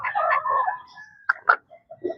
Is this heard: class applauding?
no